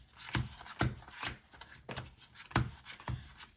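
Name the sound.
shuffling a deck of cards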